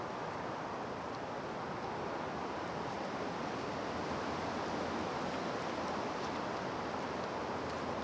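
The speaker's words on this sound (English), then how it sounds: "The weather's getting really blustery now." Blustery wind blowing outdoors while a wild duck is plucked and field dressed, a steady loud rushing roar filling the whole stretch with no pauses.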